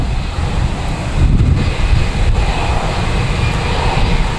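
An Aer Lingus Airbus A330-300 arriving from Dublin at Boston Logan, its jet engines a steady broadband roar with wind buffeting the microphone throughout.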